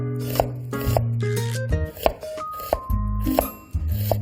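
A kitchen knife slices eggplant laid flat into thin strips, with a series of crisp, irregular cutting taps against the board, heard close up over soft tonal background sound.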